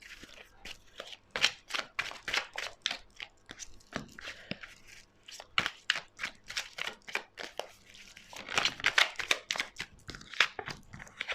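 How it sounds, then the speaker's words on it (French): Oracle cards shuffled by hand in a steady series of crisp riffling and flicking bursts, close and fairly loud, with brief pauses between flurries and no talking. "Pourriez-vous faire sauter les cartes, s'il vous plaît?"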